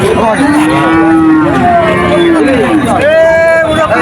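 A calf moos loudly and close at a busy cattle market, two long drawn calls with a shorter one between, over a constant murmur of crowd chatter and voices.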